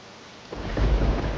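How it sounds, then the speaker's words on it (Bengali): Heavy rain falls outside in an animated scene. A dense wash of downpour swells after a quiet start, with a deep rumble like thunder underneath. "বাইরে তো অনেক বৃষ্টি হচ্ছে।"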